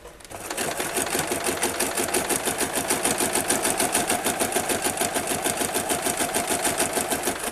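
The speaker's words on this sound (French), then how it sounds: "je continue à bien installer mon ourlet tout le long et je continue à coudre" A sewing machine stitches the hem of a furoshiki cloth in one steady, fast, rhythmic run of close mechanical clatter, heard alone without talk.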